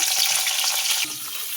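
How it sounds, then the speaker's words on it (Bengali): A bright, crackling sizzle of onions frying in hot oil, loud and close, with a few soft knocks; brief and without voices. "আমার তেল গরম হয়ে গেছে, আমি এবার পেঁয়াজটা দিই"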